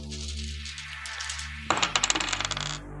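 A pair of eight-sided dice tumbles across a table during a tabletop role-playing game: about a second of quick, close clattering clicks that settles to a stop over a steady low background hum.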